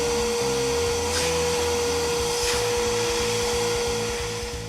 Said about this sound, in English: Next, vacuum out the interior.